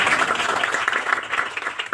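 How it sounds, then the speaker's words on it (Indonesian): Church congregation applauding in praise during a worship testimony, a steady dense patter of many hands filling the whole stretch at moderate level, with no break. "Beri tepuk tangan bagi kemuliaan Tuhan."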